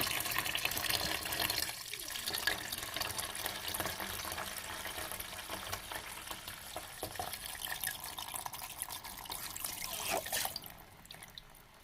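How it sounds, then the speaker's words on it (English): Cold water pours steadily into a container holding Dettol antiseptic liquid, with a continuous splashing trickle, fairly quiet and close, with occasional soft clunks. "Then just get some cold water and just pour it in."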